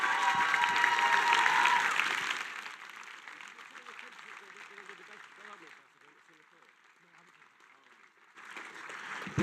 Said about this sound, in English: can we please give a really generous round of applause to the CEO and the founder, Andrew Denford